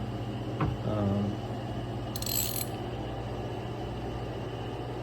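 A ratchet turns in short, quick clicking bursts while removing spark plugs from a Yamaha 1.8 high-output engine on a 2013-or-later FX Cruiser watercraft, close up, followed by a brief metallic rattle and then a quiet room hum.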